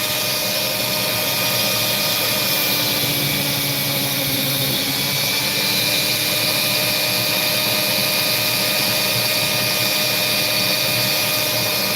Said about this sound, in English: I'm going to cut along that sand line in the hope that cutting along that sand line will reveal something